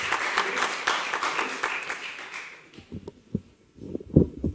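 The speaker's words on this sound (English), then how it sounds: "Applaud, please, for your coaches" Applause for high school baseball coaches at a county freeholders' ceremony, a steady round of clapping that stops abruptly midway, followed by scattered low thumps and shuffling in a quieter room.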